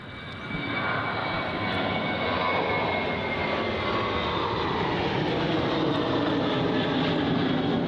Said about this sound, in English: now, we have Virgin Australia flight VA1328 off to Hobart